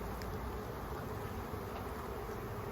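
A swarm of honey bees buzzing in a continuous, low, droning hum, faint and steady with no break or voices over it.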